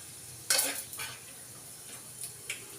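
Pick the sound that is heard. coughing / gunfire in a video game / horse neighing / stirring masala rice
stirring masala rice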